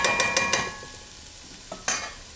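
Four garlic cloves sizzle in a pan for a sweet spaghetti sauce, with a few quick scraping stirs near the start, a quieter stretch, then two more sharp clacks of the utensil near the end.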